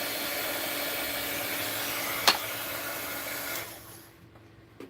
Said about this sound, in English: unplug the heat gun because it's got a short